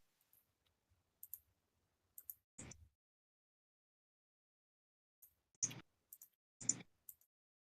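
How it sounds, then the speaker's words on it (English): Faint sharp clicks on a live voice chat, arriving in short scattered bursts over quiet background, with a few louder clustered clicks near the middle and end. "All I hear is clicking."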